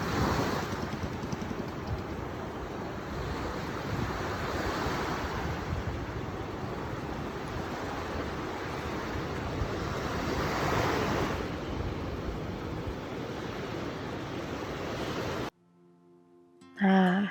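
Steady roar of surf from ocean waves breaking on a beach right beside a guesthouse, continuous and fairly loud with gusts of wind noise, then a sudden cut to a brief quieter moment at the end.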